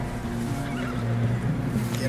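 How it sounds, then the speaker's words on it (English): A horse whinnies in the video game Red Dead Redemption 2, a moderate neighing cry set over the steady game ambience and low rumbling background. "Whoop, that's Javier's horse."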